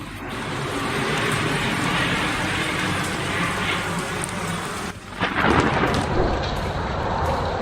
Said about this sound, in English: A bystander accidentally captured the moment a plane was struck by lightning